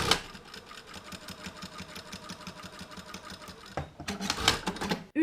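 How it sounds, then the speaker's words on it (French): A domestic sewing machine stitches hemmed fabric pieces together, a fast rhythmic mechanical whir running close and steady before a brief pause and a short second burst. "je vais aller les coudre à 1 cm du bord, endroit contre endroit, à chaque extrémité."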